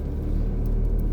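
Steady low engine rumble from a car's interior while a learner drives on a lesson, continuous and fairly loud with no talk over it.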